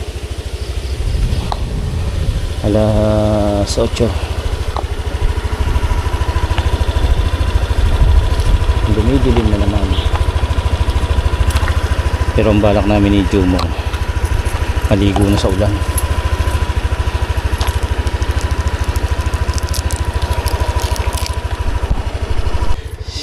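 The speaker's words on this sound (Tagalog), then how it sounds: "Pinaiinit ko yung motor." Motorcycle engine idling while warming up after days of rain: a steady low rumble running throughout, with people talking over it near the machine.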